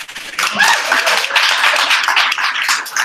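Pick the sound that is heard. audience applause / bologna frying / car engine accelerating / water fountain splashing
audience applause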